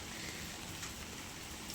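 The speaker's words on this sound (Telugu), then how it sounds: "వర్షం వస్తానే ఉంది చూస్తే వర్షం ఏం హెవీగా ఏం లేదు బట్ కంటిన్యూగా వర్షం ఉండడం వల్ల" Steady light rain falls continuously in a backyard garden, a soft, even hiss of drops with no voices, faint and unbroken.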